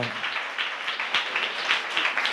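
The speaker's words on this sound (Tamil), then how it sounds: "நல்லா கைத்தட்டி ஆண்டவருக்கு நன்றி சொல்லுங்க" Congregation clapping hands together in a church service, a dense, continuous patter of many hands at moderate distance with no voices over it.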